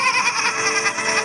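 A goat bleats loudly and close by in a wavering, continuous cry at a village goat-milk seller's, with no talk over it.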